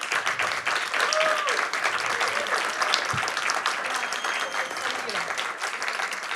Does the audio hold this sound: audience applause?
yes